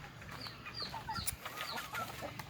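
Chickens cluck faintly on a farm among a mixed flock kept for breeding, scattered calls over steady background noise.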